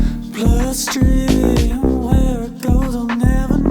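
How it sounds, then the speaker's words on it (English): A punchy, compressed electro R&B bass line pulses in a bouncy repeating rhythm, its notes thick and evenly leveled, playing alone with no voices. "Okay, that bass line's sounding really good."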